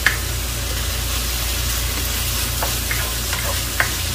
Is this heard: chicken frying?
yes